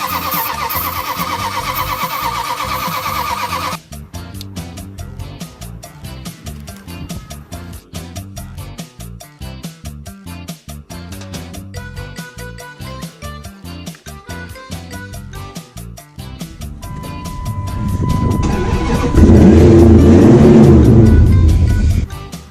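A Dodge Dakota RT's V8 cranks and fires after a brief burst of noise, then idles with a steady rhythmic pulse before being revved loudly near the end, close and with no talk.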